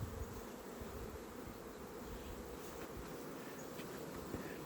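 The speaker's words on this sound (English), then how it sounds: "Look at those bees just lined up like a buffet around that patty." Bees swarm around a fresh pollen patty at a hive on a warm day, producing a dense, continuous buzzing hum close by, fairly faint overall and steady throughout with no voices.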